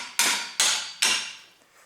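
A heavy, roughly two-kilo steel hammer strikes the brake caliper of a 2004–2011 BMW 1 Series to free the front brake pad: three sharp, loud metallic blows, evenly spaced, each with a ringing decay, close up and without talk.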